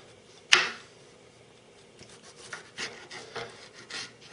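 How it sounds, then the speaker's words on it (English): A guided slicing knife cutting thin tomato slices: one sharp knock as the blade sets down, followed by several soft rasping strokes at close range. "it'll cut ultra thin tomato slices, almost too thin"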